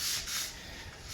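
Hand sanding of a skim-coated interior wall in a house under renovation, a steady broadband rasping scrape that swells and eases in continuous strokes, fairly close, with no talk.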